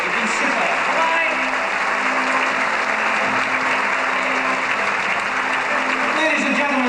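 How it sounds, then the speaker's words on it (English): Sustained audience applause at a 1988 Strathclyde Police concert, a dense, steady wash of many hands clapping at full volume without a break. "get that lovely applause."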